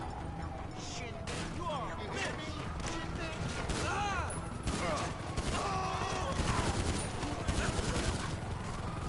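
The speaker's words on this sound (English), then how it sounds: "Are you using a pistol and destroying them?" Rapid pistol gunfire in the video game GTA 5, with dense overlapping shots and crashes running steadily throughout the mix, while voices talk over the action.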